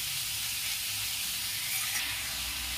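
Pasta ingredients frying in a pan at home give a steady, even sizzle with soft hissing steam, continuous and fairly quiet without any voices.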